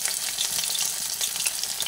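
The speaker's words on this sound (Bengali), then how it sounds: "আদাটা ভাজা হচ্ছে" Ginger frying in a pan gives a constant close sizzle with light crackling and faint stirring, and no voices.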